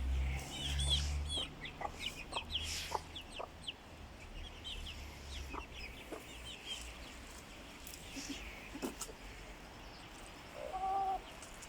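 Chickens and chicks cluck softly and intermittently over a quiet outdoor background in rainy weather, with a few louder calls near the start and end.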